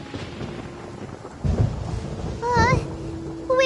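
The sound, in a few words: thunder in a video game (Genshin Impact)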